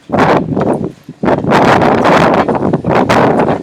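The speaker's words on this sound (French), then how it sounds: "Il y a du vent." Loud wind buffets a nearby microphone in uneven gusts, with one brief lull partway through.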